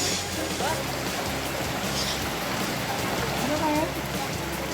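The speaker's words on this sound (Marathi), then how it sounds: "नालासोपारा शहरात पावसाचा जोर कायम आहे." Heavy monsoon rain pouring down in Nalasopara city during flooding, a dense steady hiss of rain and splashing water that runs the whole time, with voices faintly present under it.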